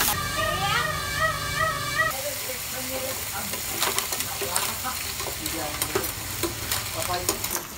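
Food is stirred and sautéed in a pan in a home kitchen in the province, with a steady crackling sizzle and repeated scraping strokes, while a tonal sound plays over it for the first couple of seconds.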